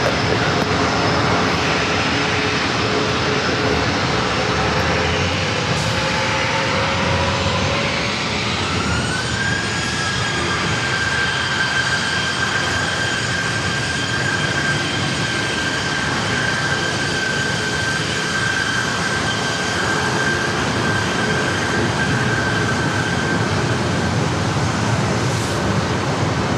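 A Boeing 737 jet departing San Diego airport gives a loud, steady engine roar that builds into a rising whine and then holds at full power, continuous and close throughout, with no voices.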